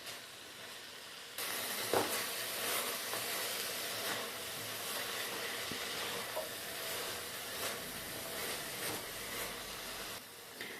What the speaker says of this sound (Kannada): ಪಾಲಕ್ ಸೊಪ್ಪಿನ ಹಸಿ ವಾಸನೆ ಹೋಗೋವರೆಗೂ ಸಣ್ಣ ಉರಿಯಲ್ಲಿ ಚೆನ್ನಾಗಿ ಬಾಡಿಸ್ಕೊಳ್ಬೇಕಾಗುತ್ತೆ